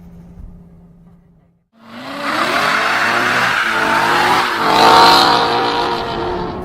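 A 2016 Chevy Corvette Z06 launches hard with its tires spinning, the engine roaring loudly after a brief quiet idle and building in pitch over several seconds.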